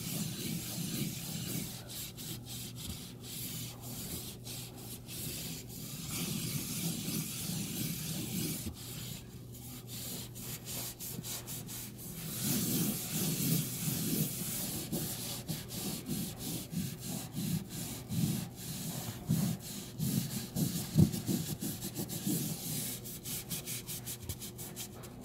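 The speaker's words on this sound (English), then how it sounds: "we're going to go ahead and start wiping it down." Cloth rubbing and wiping across a surface sprayed with Totally Awesome cleaner, a steady scrubbing swish with uneven strokes that continues for the whole stretch at moderate loudness, with no talking.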